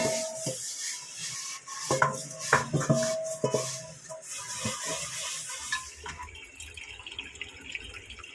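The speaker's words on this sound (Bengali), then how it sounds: "এক গামলা এখানে বাসন, আর এই যে এখানে ভাতের এটা মাজবো" Dishes being washed by hand and a rice pot scrubbed in a home kitchen: scraping, rubbing and clinking of utensils with dripping and running tap water, busy in the middle and easing off toward the end.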